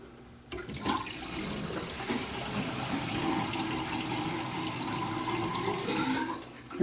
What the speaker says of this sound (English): I'll let the drain go here and see how things look.